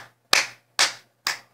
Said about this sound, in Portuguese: conseguimos produzir som com as nossas mãos. Chamamos de palmas